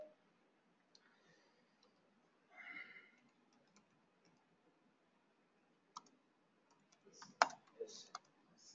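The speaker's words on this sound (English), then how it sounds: "now if you are typing here" Sparse, faint computer keyboard typing with scattered clicks and a short cluster of keystrokes near the end, set against a very quiet room with soft background noise.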